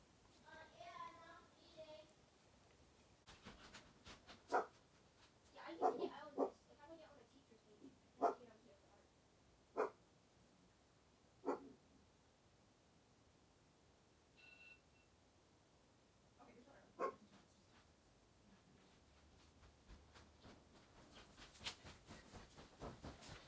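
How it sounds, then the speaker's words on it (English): A dog barks outdoors at passersby in scattered single and double barks, moderately near, separated by pauses, with a faint beep and some background noise near the end. "you just want to sit out there and bark at people?"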